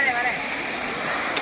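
Steady broadband rush of a waterfall at Guna Cave, Devil's Kitchen, in Kodaikanal, constant and fairly loud, with a faint whistle-like tone briefly at the start.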